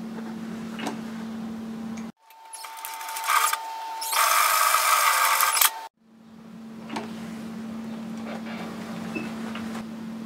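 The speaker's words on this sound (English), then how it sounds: "we're going to sew the side together, and we're going to sew it at 6 mil" A sewing machine runs in two bursts, stitching the side seam of a fabric coffee holder bag. The bursts are loud and close, and a steady hum fills the quiet gaps before, between and after them.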